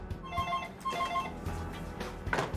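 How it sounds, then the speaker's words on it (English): A phone rings with a repeating electronic tone in two short bursts over low background noise, followed by a brief rustle as the call is answered. "Alex makes a call to her phone posing as a representative from her bank."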